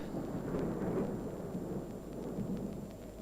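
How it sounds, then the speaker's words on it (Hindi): Rain and thunder in a period drama scene about Kalidas: a continuous low rumble of thunder with steady rainfall, fairly quiet and unbroken, with no voices. "वर्षा थम रही है।"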